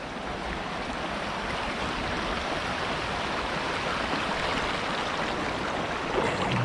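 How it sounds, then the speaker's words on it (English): Steady rushing water roars as a dense, even wash of noise, like a waterfall heard from nearby, continuous and unchanging with no voices, at a big waterfall in Waterman Canyon near hot springs. "And we got a big waterfall right there."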